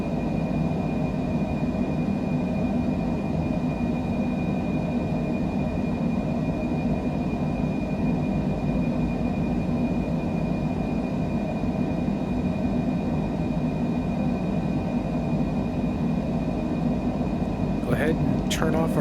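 Jet engines of a Longitude business jet climbing out from Cairo in a flight simulator: a steady, loud, low rumbling drone with a thin constant whine above it, unbroken for the whole stretch, with a brief click near the end.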